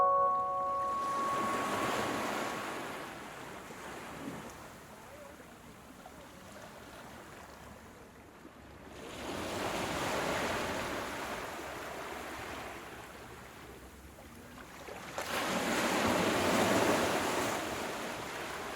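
Gentle ocean waves wash onto the shore in slow surges, three soft swells rising and receding over several seconds each, with a steady breezy hiss between them.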